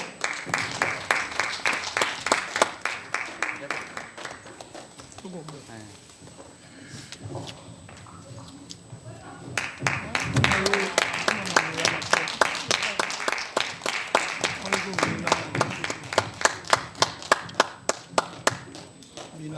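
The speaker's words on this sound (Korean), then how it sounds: "이 시간에 나올 때 많은 격려 박수 부탁드립니다" Rhythmic, encouraging clapping from a church audience at a Korean Christian cultural arts festival in a women's center hall, with steady beats that pause in the middle, return louder, and carry on under voices and ambient noise.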